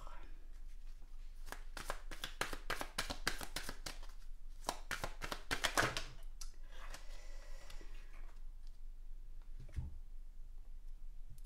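Oracle cards are shuffled by hand in quick, close riffling bursts that speed up and then taper off, under someone speaking French.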